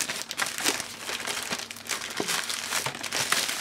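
Plastic packaging of a selfie stick shipped from China being torn and opened by hand, with steady crinkling and crumpling close up, a few sharper rips, and no talking.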